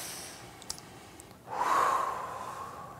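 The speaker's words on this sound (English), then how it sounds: "Take a deep breath." A single deep inhaled breath, taken slowly during a guided tapping relaxation session, rises from quiet room tone and holds as a soft, close airy rush for over a second before easing off.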